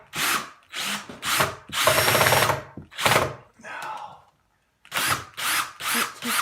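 A power drill whirs in short, loud bursts, starting and stopping repeatedly with brief pauses, one longer run in the middle.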